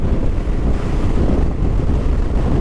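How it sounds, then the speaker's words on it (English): Icy cold wind gusting across open country on a solo Simpson Desert crossing by KLR650 motorcycle, a loud, steady roar buffeting the microphone with no talk. "Icy cold out here, that wind."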